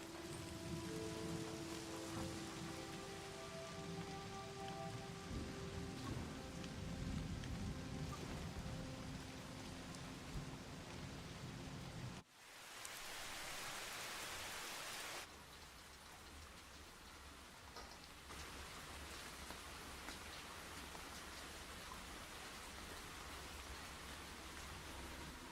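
Rain in the video game SEASON: A Letter to the Future pours in a dense, steady hiss. It cuts out abruptly midway, then returns as a softer, continuous downpour with a low rumble beneath.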